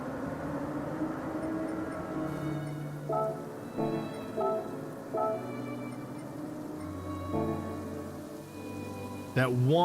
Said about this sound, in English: That one little downpour